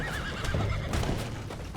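A horse in the Red Dead Redemption 2 video game gives a loud wavering whinny, followed by hoof clip-clops and rustling game sounds close up, with no talk.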